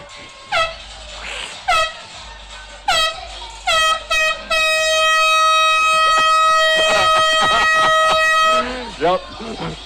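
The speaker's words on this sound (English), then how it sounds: "I think someone's got an air horn." Loud air horns blast at a street parade for Bermuda Day, a few short toots and then one long sustained blare, with people talking nearby between and under the blasts.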